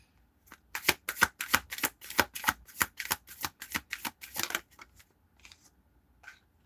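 A deck of tarot cards shuffled in a rapid series of crisp riffling bursts, each sharp and close, packed tightly for about four seconds before trailing off into a few scattered flicks.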